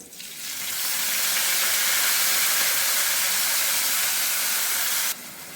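Vaseti greens dropped into a hot pan with browned garlic give a loud, steady broadband sizzle that surges at once and holds for about five seconds, then eases slightly, with no talking.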